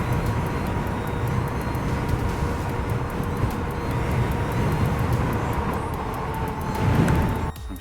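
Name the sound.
vehicle driving quickly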